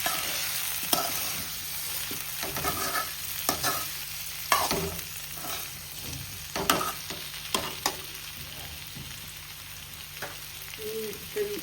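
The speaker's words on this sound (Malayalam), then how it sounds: "ഈ എണ്ണയിൽ തന്നെ ഇങ്ങനെ ഒന്ന് എല്ലായിടവും മിക്സിങ് ആക്കി എടുക്കാം" Food crackles and sizzles in hot oil while a spoon scrapes and stirs, with repeated sharp knocks against the pan throughout.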